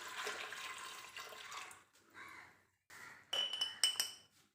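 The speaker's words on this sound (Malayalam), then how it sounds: "നമുക്കിതിലേക്ക് പാകത്തിന് വെള്ളം ഒഴിച്ച് കൊടുക്കുക." Water is poured into a pressure cooker holding lentils, potato and pumpkin, first as a steady splashing stream. After a short gap come a few clinks of metal and glass, all quiet and close by.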